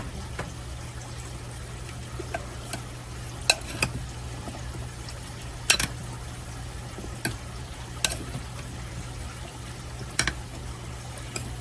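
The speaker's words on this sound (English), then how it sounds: "A little bit of onion powder. And stir that up." Onion powder is stirred into a salad dressing in a bowl, with sparse utensil clinks and scrapes scattered over a quiet background hum.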